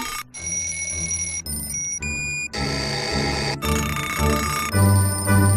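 An alarm clock rings in a radio ad aired during a college softball broadcast, with loud, continuous metallic bell clatter shifting through several bursts of changing tone and no voices.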